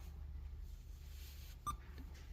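A single short, faint electronic beep from a Power Acoustik CP-71W car stereo in a 2007 Honda S2000, with a brief higher chirp just after, over a quiet low hum.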